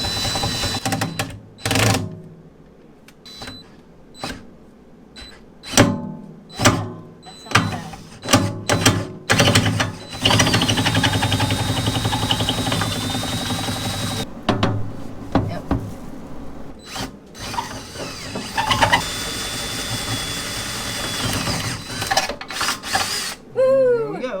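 Power drill driving into wood aboard a boat, with repeated short whirring bursts that stop and start, then a longer sustained grinding run, all close up.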